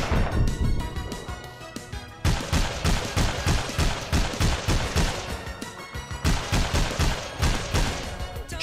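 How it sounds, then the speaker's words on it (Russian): Rapid bursts of loud gunfire from an Obeya SLR-762 rifle in the game APB Reloaded crack in quick succession, broken by a brief pause, like a close-range firefight. "Четыре выстрела."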